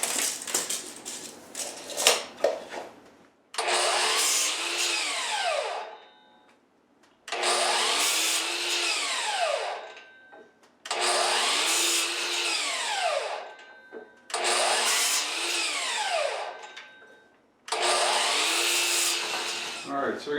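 Power saw cutting wood pieces for a rabbit house build, heard as five loud whining cuts of a few seconds each separated by short pauses, with some clattering and handling noise at the start.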